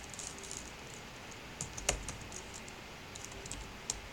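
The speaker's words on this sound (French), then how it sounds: "là maintenant on tape LED pin" Arduino code is being typed on a computer keyboard: soft, quiet keystrokes in an uneven patter, with a few sharper key hits standing out near the end.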